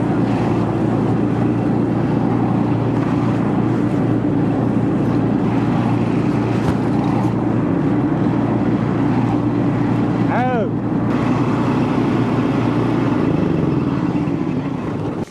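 A four-wheel-drive farm tractor engine drones steadily as it pushes through deep, wet mud during a corn harvest, with wind buffeting the microphone and a person talking over the constant low rumble.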